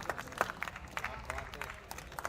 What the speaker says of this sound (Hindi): आपकी समर्थन की तालियों की मोहर मांगता हूं।